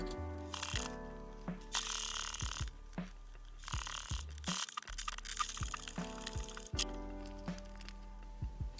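A sewing machine stitches a quilt side panel in short mechanical runs with clicks and thumps between them, close and fairly quiet.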